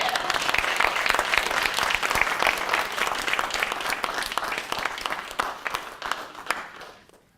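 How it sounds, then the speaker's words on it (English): An audience at a live speaking event in Birmingham gives a sustained round of applause, many hands clapping densely and steadily before fading out at the close. "Please give a huge round of applause to Sunil."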